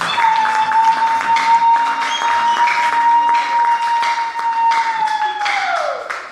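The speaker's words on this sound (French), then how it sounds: "Est-ce qu'on peut acclamer les Seigneur?" A church congregation bursts into loud, sustained applause and clapping to acclaim the Lord, with a held tone ringing over the clapping until it tapers off near the end.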